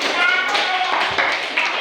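Students clapping in a classroom, a short burst of close, sharp hand claps with voices mixed in, fairly loud and uneven.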